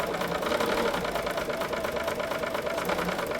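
A sewing machine stitches fabric along a marked line for a quilt block, its steady rapid whirring and clattering held at an even pace from start to finish, close and alone.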